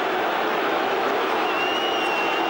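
Football stadium crowd at Arsenal versus West Ham baying for a card after a foul, a loud continuous roar of many voices with whistles, heard from a distance.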